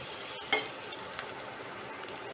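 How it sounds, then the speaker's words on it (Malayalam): Ginger and garlic sautéed in a pan for an egg dish, a faint steady sizzle with one or two soft stirring knocks, heard alone. "ഇഞ്ചി അതിട്ട് ഇത്രയും ഇട്ടിട്ട് നല്ലപോലെ വഴറ്റുക"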